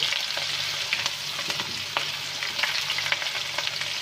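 Finely chopped onion frying in a pan for beef kofta, making a steady, hissing sizzle with light, repeated stirring scrapes throughout.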